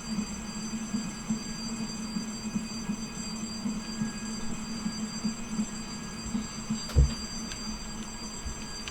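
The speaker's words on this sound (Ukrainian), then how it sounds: "О, последний вагон, наконец-то." Train wagons rolling past a railway crossing, a steady low rumble with faint rhythmic wheel clatter throughout and a brief louder knock near the end.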